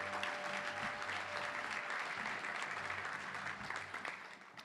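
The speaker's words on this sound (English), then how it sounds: "Round of applause for all the student athletes in the state of Arkansas playing high school football this year." A luncheon crowd at a Little Rock touchdown club gives sustained applause for Arkansas high school football players. The dense, even clapping holds steady and fades slightly at the end.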